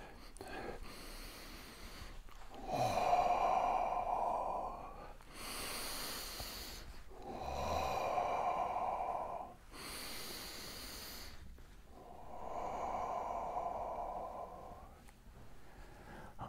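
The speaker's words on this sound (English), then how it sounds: "It comes up, breathing in through the nose," Nogare martial-arts breath control: three long, loud breathing cycles, each a steady nasal inhale followed by a forceful hissing exhale through the mouth, with short pauses between, close up and with no talking.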